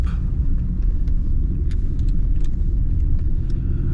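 Smooth engine of a 1991 Mitsubishi Diamante 30R-SE on a test drive in Japan, a steady loud low rumble from inside the moving car with road noise, continuous throughout and no talking.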